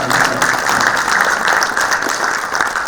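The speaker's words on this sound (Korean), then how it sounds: "네, 박수 한번 주세요." Audience applause at a Korean U-Healthcare forum and seminar, steady dense clapping from a crowd filling the room, loud and continuous throughout with no talk over it.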